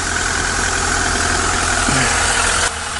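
A KAMAZ truck engine idles while warming up in cold weather, a loud, steady, close rumble with constant vibration and no speech, briefly dipping near the end.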